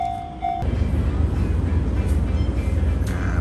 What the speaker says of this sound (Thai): เนี่ยรถไฟกำลังมานะครับ JR กำลังมานะครับ